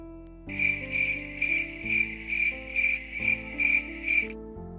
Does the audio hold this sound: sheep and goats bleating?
no